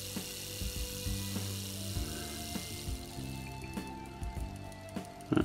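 A Hornby R369 class 37 model locomotive from 1980, freshly serviced, runs slowly, its small motor giving a faint, rhythmic whirring with regular clicks and ticks close by.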